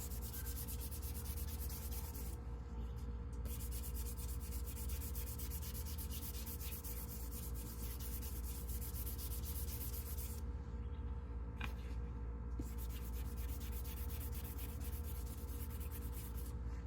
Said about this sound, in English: We're going to sand it lightly.